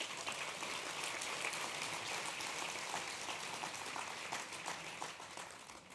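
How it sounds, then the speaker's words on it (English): An audience at a kids' event in Denver claps steadily, a dense, sustained wash of applause that fades slightly at the end. "You guys give another round of applause for this amazing man right here."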